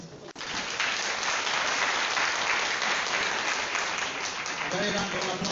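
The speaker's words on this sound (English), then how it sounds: "Very round of applause" Sustained, dense applause fills a university hall at an international education conference in Nigeria, steady and loud throughout, with faint voices underneath near the end.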